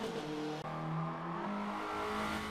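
A second-generation Hyundai Veloster Turbo engine revs hard in Forza Motorsport 7 on the Catalunya National Circuit, tones climbing through gear shifts, loud and continuous with no talk.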